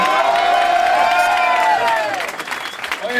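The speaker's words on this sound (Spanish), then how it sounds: "¡Aplausos fuertes!" Crowd at a Mägo de Oz gold record presentation cheering and applauding loudly, with whoops and shouts over dense clapping that eases off toward the end.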